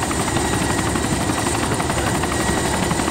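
A helicopter in the video game Arma 2 flies close by, its rotor thudding in a steady, loud, continuous drone with engine whine, heard alone with no voices.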